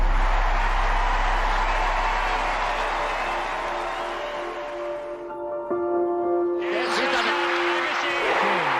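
A Wimbledon crowd cheers and claps for a celebrating champion heading up to the box, a broad roar that thins midway before a fresh burst of clapping, with a commentator's voice running over it.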